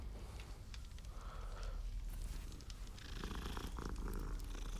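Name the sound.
cat purring in Hogwarts Legacy video game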